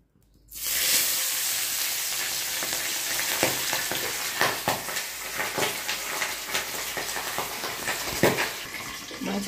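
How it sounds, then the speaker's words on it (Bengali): Pabda catfish rubbed with salt and turmeric frying in hot mustard oil in a kadai, a loud steady sizzle with sharp spattering pops throughout. "মাছগুলো প্রচুর তেল ছিটকাচ্ছে"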